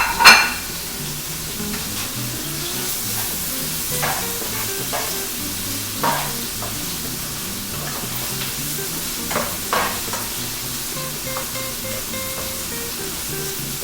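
Onions fry in a pan for beef tips, a steady soft sizzle broken now and then by brief scraping stirs and utensil clinks, with no one talking.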